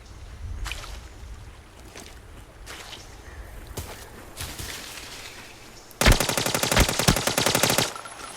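Gunfire in the tactical shooter game Arena Breakout: scattered single shots and sharp cracks, then a loud rapid automatic burst lasting about two seconds, close and dominant with little else underneath.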